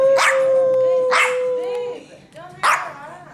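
A small dog barks three times in sharp, high-pitched yaps, close by, with pauses between barks.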